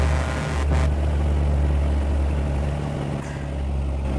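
A loaded truck in the mobile game Truck Simulator Big Rigs labors uphill, its engine droning as a loud, steady low hum with a brief dip in level near the end.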